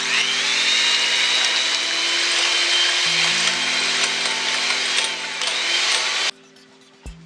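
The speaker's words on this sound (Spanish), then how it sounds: "En un tazón voy a poner las claras, las que voy a batir a punto de turrón." An electric hand mixer whips egg whites in a bowl to stiff peaks for a skillet apple tart, a loud steady motor whine with a brief pitch drop midway, then it cuts off abruptly near the end, leaving quiet hum.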